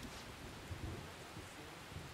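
Steady rain and low rumbling thunder from a rainy day in the video game Persona 5 Royal, a continuous faint wash of rainfall with soft thunder swells partway through, no voices.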